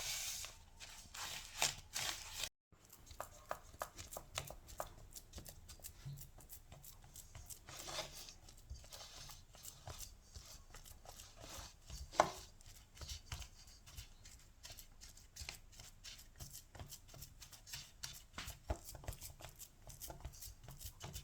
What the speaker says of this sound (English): After you have finished, crush your biscuit.